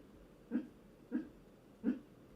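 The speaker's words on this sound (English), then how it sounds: "My dog is now dreaming and barking in his sleep." A sleeping dog gives three soft, muffled woofs at even intervals, faint and close, with quiet breathing between them.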